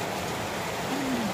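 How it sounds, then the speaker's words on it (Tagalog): Heavy rain pours steadily in a dense, even hiss, with a faint tonal whine rising briefly partway through. "Lumakas na lumakas ang ulan."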